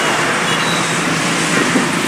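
Steady, dense roar of road traffic on the Pune–Bangalore highway during a long jam, with engines of cars, buses and trucks blending into a continuous close wash of noise, no voices.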